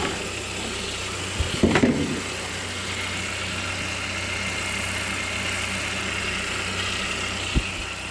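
A Saab 9-5 with a 2-litre stage 3 engine idles with a steady, smooth mid-pitched hum that stays even throughout, broken by a short clatter early on and a single brief knock near the end.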